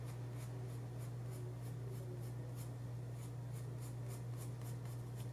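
Pencil drawing and erasing lines on paper for a chibi figure, steady faint scratching and rubbing strokes in a rapid repeated rhythm over a constant low electrical hum.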